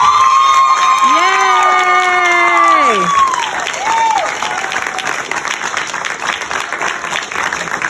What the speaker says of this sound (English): please give a big round of applause for Miss Kathryn Hicks.